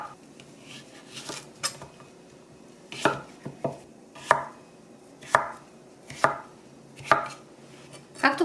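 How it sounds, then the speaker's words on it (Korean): A knife cuts cucumber into cubes on a cutting board, producing about ten crisp, close chopping thuds in an uneven rhythm, with no talking. "오이를 썰어 보겠습니다."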